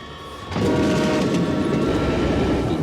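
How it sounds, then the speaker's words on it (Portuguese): A train passes close by, a loud steady rumble of rolling wagons with faint rhythmic clatter that swells suddenly after a quieter start and then holds at full strength without any voices. "Bunó Varilla pega um trem para Washington."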